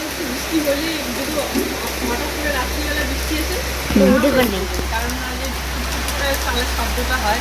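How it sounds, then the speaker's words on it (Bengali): Rain falls after hot weather in a steady, even hiss that runs throughout, with people talking quietly over it. "বৃষ্টির শব্দটা ভাল লাগে হ্যাঁ এটা মানে গরমের পর যদি এরকম বৃষ্টি হয় আওয়াজ তো শুনে শুনে আরামসে ঘুমানো যায়"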